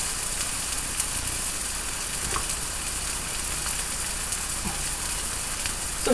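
Hamburger patties sizzle and fry in a pan on a kitchen stovetop, a steady dense crackle and hiss with scattered small pops, close and continuous throughout with no talking.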